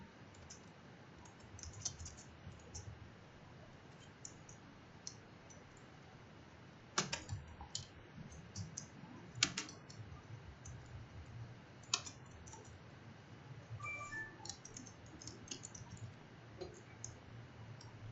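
A tar extract command is typed on a computer keyboard: scattered, quiet key clicks come in short bursts with a few sharper presses, close by, with no one speaking.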